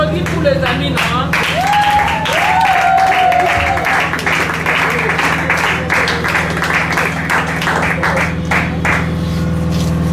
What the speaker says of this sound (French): Applaudis pour les amis, non?